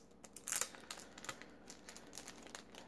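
Packaging from a mail delivery crinkling as it is opened, with a loud crackle near the start, then lighter irregular rustles and crackles that continue close by.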